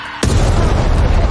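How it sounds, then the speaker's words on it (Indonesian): Heavy gunfire and explosions from a Taliban assault on a US outpost in a war film battle, a sudden loud blast erupting after a quiet start and rumbling on densely to the end. "ratusan pejuang Taliban berdatangan untuk melakukan serangan besar-besaran ke pos penjagaan Amerika Serikat, dan baku tembak pun meletus."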